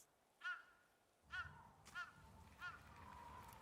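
A crow caws in the video game Ghost of Tsushima, four distinct harsh calls spaced about a second apart over a low windy ambient bed, standing alone without talk.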